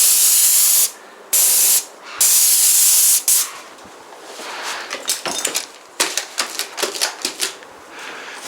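A paint sprayer sprays out a small cupboard in a 1943 home's interior repaint: several loud hissing bursts with brief gaps, followed by a run of quick, irregular clicks and taps.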